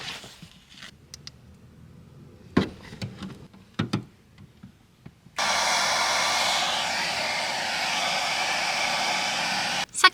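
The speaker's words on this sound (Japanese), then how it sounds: "マイドライヤーで乾かしたけど" A personal hair dryer blows hair dry inside a small car used for overnight camping, a loud steady whoosh that starts abruptly after scattered handling clicks and runs unbroken, close to the microphone.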